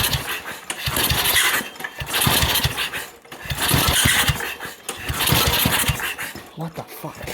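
A John Deere 110 tractor with a swapped 8hp engine runs roughly, surging up and down in repeated swells with an odd uneven note, while someone talks over it.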